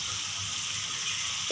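Shrimp sizzle steadily with onions in a hot pan, a close, even, bright frying hiss with no talk.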